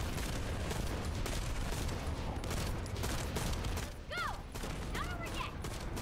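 Rapid shotgun blasts from an enemy in The First Descendant, a dense volley of loud gunfire packed over a busy game soundscape, with a few rising whistling tones near the end.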